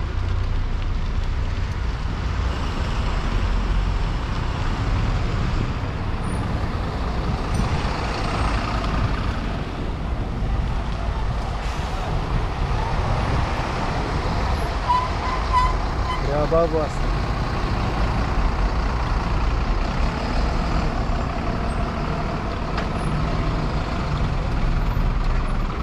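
Dense city road traffic with trucks and buses rumbles continuously from close by, with hissing air brakes and passing engines, heard steadily throughout with no talking.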